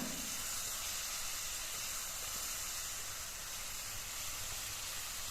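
Ginger garlic paste sautéing in oil in a pan, a faint, steady hissing sizzle that holds evenly throughout with no pops standing out and no talking.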